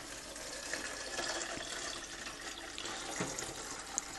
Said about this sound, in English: fill her up with water